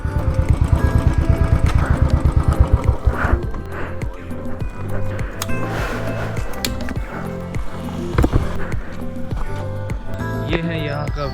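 Royal Enfield Thunderbird motorcycle engine running, a regular thumping beat at the start that fades under a person talking for most of the clip, with the engine still audible nearby.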